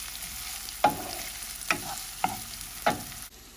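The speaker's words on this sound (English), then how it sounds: "At this stage, we're going to add our onions. Just give it a nice mix." Chopped onions frying in a pan for a vegetable lasagna sauce are stirred, with a steady sizzle carrying through and four distinct scraping stirs of the spoon at roughly even intervals, fairly close and with no talking.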